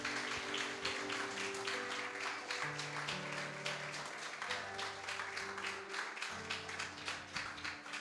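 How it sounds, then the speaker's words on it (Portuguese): A church congregation applauds in sustained, dense clapping under sustained keyboard or organ tones that shift pitch, with the clapping continuing steadily the whole time. "aplaudam o Senhor"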